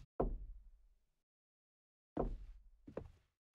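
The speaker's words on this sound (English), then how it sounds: "What is that knocking sound?" Three hollow knocks in a horror video game, Mirror, Mirror: a single loud thud, a pause of nearly two seconds, then two quick knocks in succession, close and dry against silence.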